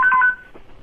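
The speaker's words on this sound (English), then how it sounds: "That's a special ring they have." A special hotline telephone rings with a short electronic tone, a few quick pulsing beeps close by that stop after a moment, leaving quiet room noise.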